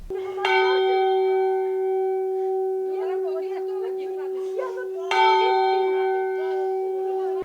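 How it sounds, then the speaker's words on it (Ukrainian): A church bell strikes twice with long ringing tones, loud and close, summoning a community meeting in a churchyard, while people talk quietly in the background between the strikes. "На церковне подвір'я на збори громаду цього тижня скликали б'ючи у дзвін."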